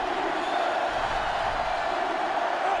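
A stadium crowd in NCAA Football 2005 roars in a steady, dense wash of cheering that fills the whole moment without a break, during a Georgia versus Alabama matchup.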